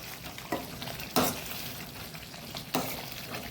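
Brinjal frying in coconut oil is stirred in a pan, with a steady close sizzle broken by a few louder scraping stirs, no voices.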